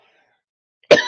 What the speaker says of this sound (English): I'm going to get into a coughing thing